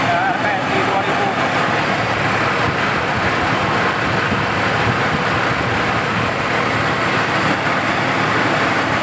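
Suzuki Vitara engine idling up at around 2000 RPM, a steady, loud rumble that carries on without a break under the surrounding noise.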